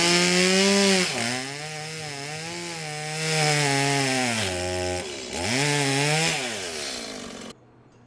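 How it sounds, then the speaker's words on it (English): A chainsaw roars close by as it cuts a log into pieces, its pitch dipping under load and rising again between cuts, then stopping abruptly. "So then we just simply chainsaw the pieces off in the sizes that you want."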